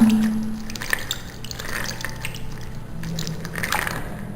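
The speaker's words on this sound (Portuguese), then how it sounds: "Então eu costumo tirar e apertar. Se sair espuma, eu continuo lavando e enxaguando" A makeup brush is squeezed and rinsed in water, giving soft, close squishing and dripping sounds with gentle watery splashes over a few seconds.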